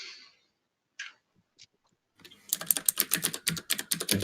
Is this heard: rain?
no